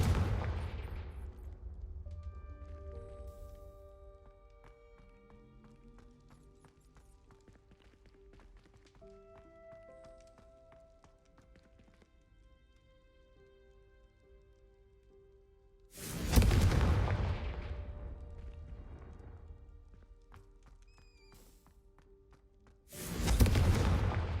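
Two loud, broadband Confringo blasting-spell explosions in Hogwarts Legacy burst out near the end, sudden and booming, following a stretch of quieter tonal game music and ambience.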